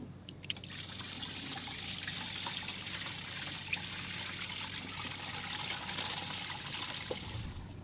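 Dechlorinated water pours steadily from a tote into a children's aquarium, a continuous close trickle and splash that runs evenly throughout with no voices.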